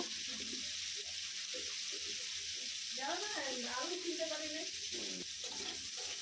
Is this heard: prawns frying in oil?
yes